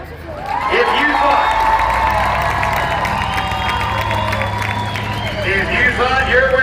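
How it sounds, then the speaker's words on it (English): A crowd at a monster truck freestyle event cheers and screams loudly and steadily, a dense roar of shouting and applause that swells again toward the end. "We need you to cheer it off to decide the winner of your final freestyle event."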